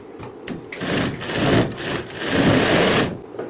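A sewing machine stitches tucks on a blouse in a short, continuous close whirring run with a slight rise and fall in speed, then stops.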